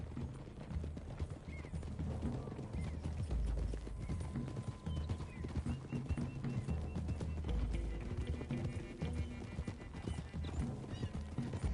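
Horses' hooves clip-clop at a steady pace as riders climb toward hills in Red Dead Redemption II, a soft, continuous trotting patter with occasional whinnies, heard faintly under low game ambience.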